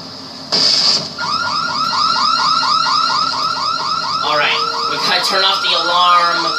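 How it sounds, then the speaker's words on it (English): A car alarm in the video game Dead Island wails in a fast, repeating electronic warble, loud and close, while a person talks over it. "Turn off the alarm. Oh my God, turn off the alarm."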